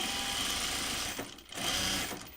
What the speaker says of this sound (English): Let's do our top stitching before we close one.